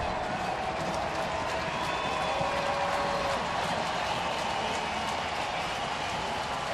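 Crowd noise from spectators at a baseball stadium during the top of the ninth inning of Boston at Oakland, a steady broadband roar held throughout.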